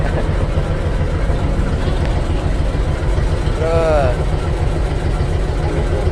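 A boat engine runs with a steady low rumble throughout a choppy sea crossing to Parang Caddi, with people chatting over the constant drone.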